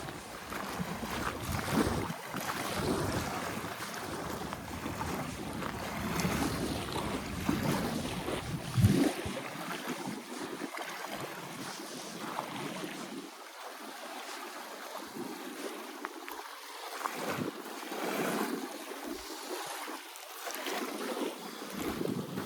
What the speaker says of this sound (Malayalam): വെള്ളം നല്ലപോലെ അടിക്കുന്നുണ്ട് വെള്ളം തിരയടിക്കുന്ന പോലെ അടിച്ച് കയറുന്നുണ്ട്